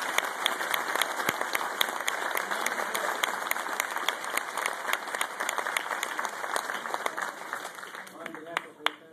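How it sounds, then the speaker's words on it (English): Following a keynote address at an APACC event, the audience applauds at length: a bright, continuous wash of many hands clapping from a moderate distance. It stays even, then thins with a few last claps near the end. "How about another big round of applause for Manoj?"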